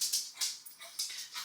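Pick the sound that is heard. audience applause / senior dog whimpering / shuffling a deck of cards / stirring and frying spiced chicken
senior dog whimpering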